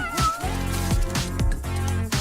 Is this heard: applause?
no